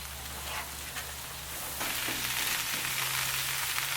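Onions and peppers sizzle on a Blackstone griddle with a steady, broad hiss that swells a little partway through, moderately loud and without voices.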